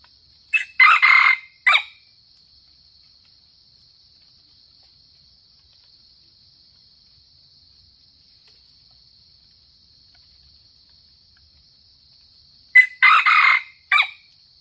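A young Sumatran red junglefowl rooster crows twice, loud and close, once at the start and again near the end, over a steady high insect drone in the forest.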